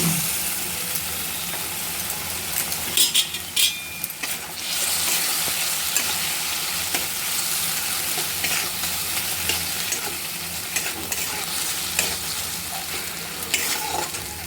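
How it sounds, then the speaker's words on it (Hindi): Turmeric, chili powder and salt fry in a masala base while it is stirred and scraped, a steady close sizzle with scraping bursts, for a masala eggplant dish. "एबे मसला रे हळदी गुंड, लंका गुंड, लूण दे मसला को कषिदबा।"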